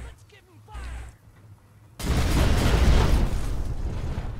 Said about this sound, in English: Big kaboom.